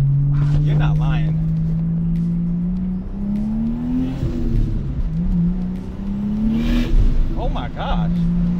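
A Toyota Supra engine pulls under light, quarter-throttle acceleration from inside the cabin, a rising hum that swells and dips, while people chat over it.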